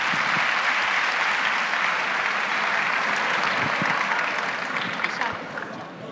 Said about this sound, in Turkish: Alkışlıyoruz.